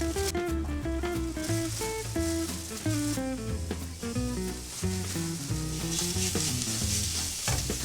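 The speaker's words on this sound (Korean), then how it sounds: "소고기를 갈아서 넣은 소고기 붕어빵" Ground beef stir-frying in a pan as a filling for bungeoppang, a steady, bright sizzle with stirring scrapes running under loud background music.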